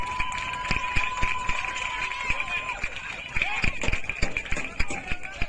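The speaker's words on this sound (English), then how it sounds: "The crowd really letting their voice be heard." A football crowd at a corporate soccer league final cheers and chants steadily in the stands, mixed with sharp clapping and thuds, while a commentator talks over it.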